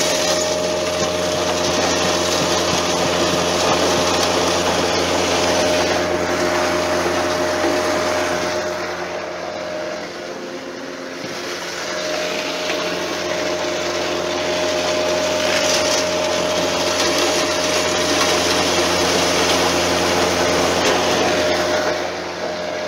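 A 16 by 12 hammer mill with a half-inch slotted screen crushes medical waste of glass, needles and plastic, a loud steady industrial roar with a constant hum that dips briefly midway and then returns.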